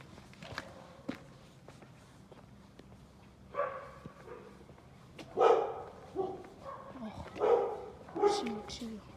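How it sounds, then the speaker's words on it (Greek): A small dog barks several times in short bursts, close by, while footsteps shuffle and people talk throughout. "τι γλυκούρι σκυλάκι είναι αυτό"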